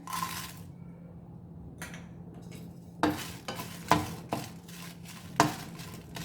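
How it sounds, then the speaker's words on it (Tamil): Dried red chillies being dry-roasted in a pan on low heat for rasam powder, stirred with a utensil: a soft, steady sizzle broken by several sharp, close scraping clinks against the pan, with no talking. "அடுத்தது வந்து காஞ்ச மிளகாய் வறுத்துக்கிறேன்"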